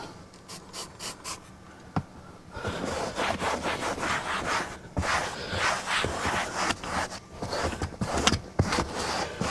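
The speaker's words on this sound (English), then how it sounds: "this microfiber pad is it picks up a lot of this dust and dirt, especially in these tight places like this" Microfiber pad rubbing and wiping dust and dirt from tight spots inside a 2016 Honda Accord, a close, steady scratchy scrubbing with quick repeated strokes, starting after a few brief taps.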